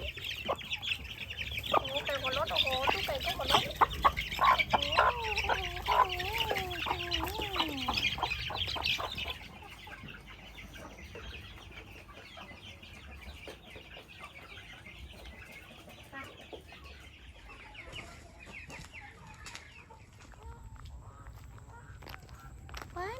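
Chickens cluck busily in a backyard duck and chicken coop, a dense loud chorus of clucks and squawks that thins to quieter scattered sounds halfway through.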